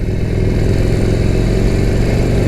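A Harley-Davidson Sportster Forty-Eight V-twin rumbles steadily under riding, a loud, close, throbbing low drone holding even throughout with no voices.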